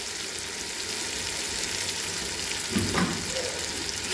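Spiced yogurt mixture sizzles steadily in a pan as a chicken kofta gravy cooks, a constant close frying hiss broken by a couple of brief clinks near the end, with no talking.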